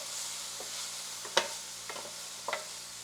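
A keto beef and cabbage stir fry sizzles steadily in a pan, with a soft constant hiss broken by a few sharp clinks and scrapes of stirring.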